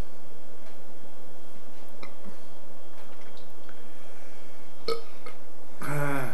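A single loud, rough burp after drinking erupts near the end, following several seconds of quiet room noise with faint clicks and drips.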